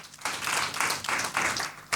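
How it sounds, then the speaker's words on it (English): Audience applauding a minister at a dialogue event, a burst of hand clapping in several rising and falling waves, close and fairly loud, with no talk. "Please give Minister another round of applause."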